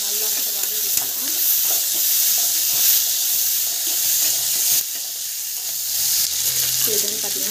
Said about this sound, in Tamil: நல்லா வந்து வதக்கிக்கலாம்.